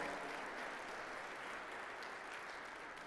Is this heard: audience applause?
yes